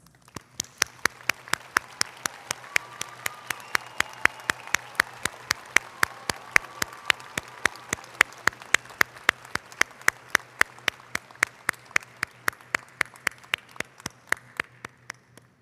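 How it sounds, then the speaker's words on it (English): Sparse, rhythmic clapping from the audience at a university commencement ceremony, honoring veterans: individual sharp claps repeat steadily for about fifteen seconds over a low, quiet room hum. "please join me in a round of applause for our veterans"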